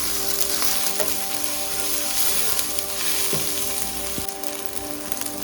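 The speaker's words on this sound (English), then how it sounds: "Once you add your garlic, go ahead and stir fry it for another about 30 seconds" Garlic stir-frying with beef in a hot wok for Mongolian beef, a steady, dense close-up sizzle that stays even throughout with a few faint clicks, no talking.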